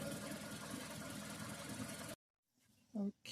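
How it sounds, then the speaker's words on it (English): A 2017 Mazda CX-5 engine idles after warming up, a steady close rumble with an even knock for about two seconds, then cutting off abruptly to quiet with a brief faint sound afterward. "It's taking a lot longer just sitting around, letting it idle."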